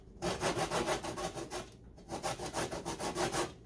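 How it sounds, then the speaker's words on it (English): A lemon is rubbed quickly back and forth over the zesting edge of a cheese grater, about a dozen rasping strokes in two even bursts, close and alone. "So I'm just taking my cheese grater and using my little"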